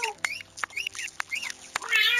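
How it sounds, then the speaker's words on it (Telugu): A large cat meows several times in quick succession, close and clear, with short rising and falling calls and a longer, louder cry at the end. "ఒక పెద్ద పిల్లి వచ్చింది."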